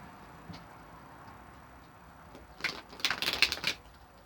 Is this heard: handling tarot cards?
yes